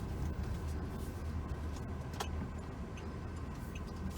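A 2006 Pontiac G6 GT rolls along the road, its engine and tyres giving a steady, moderate in-cabin rumble with a few faint ticks on top.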